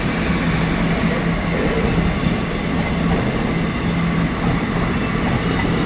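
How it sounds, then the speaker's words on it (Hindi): A train rolls past on railway tracks with a continuous, loud rumble and faint wheel clatter throughout, steady and close. "इसी के साथ सिनेमैटिक व्यू में देखो ट्रेन, आज इसको बाय बाय किया हमने सिनेमैटिक व्यू में।"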